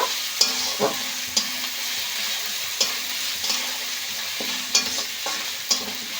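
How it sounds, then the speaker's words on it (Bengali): Garlic paste and ginger paste stirred in an oiled frying pan, giving a steady sizzle broken by repeated scraping strokes at an uneven rhythm, close and clear with no talking. "এক চামচের একটু কম রসুন বাটা আর একটু আদা বাটা দিয়ে দেব দিয়ে আবার বেশ একটু ভালো করে এইভাবে একটু নেড়ে নেব"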